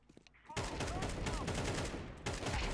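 A tight burst of gunfire from Counter-Strike 2 cracks out after a quiet start, a dense, loud volley lasting about two seconds before a final shot.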